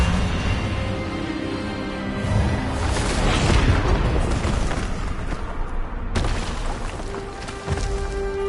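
A loud magical spell blast from the Hogwarts Legacy video game, a booming burst that swells and rumbles for several seconds before cutting off abruptly, with a faint tail afterward and no speech.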